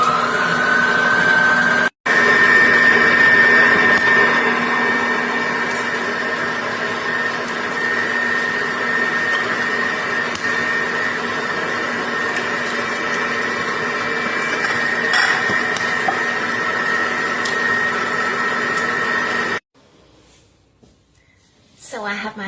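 Electric mixer whipping cream cheese in a bowl for a cream cheese lemon blueberry pound cake, a steady whirring motor hum running loud and continuous for about twenty seconds before cutting off.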